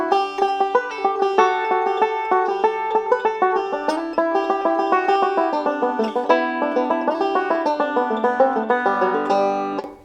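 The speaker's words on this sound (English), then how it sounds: "And the B part sounds like this." The B part of Big Sciota is picked on a 5-string banjo in a fast, steady roll of crisp ringing notes, heard up close and alone, with the last notes fading out.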